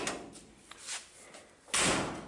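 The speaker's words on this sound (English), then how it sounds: "them doors shut better than they did from the factory" The door of a custom 1964 Ford Falcon hot rod is slammed shut, ending in one solid, loud thunk near the end after some quieter rustling and handling noise.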